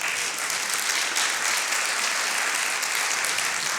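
Sustained, dense clapping from a conference audience fills the room evenly at a steady loud level from start to finish, with no voices standing out.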